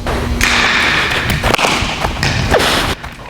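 Baseball catches in an Easton Hybrid glove of Horween and Japanese steer leather: a few loud, sharp leather pops and thumps spaced about a second apart over outdoor background noise.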